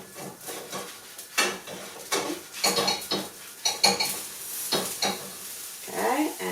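A grilled cheese sandwich in a frying pan gets scraped and flipped with a spatula, giving irregular clattering scrapes and taps against the pan over a soft sizzle, close and fairly loud.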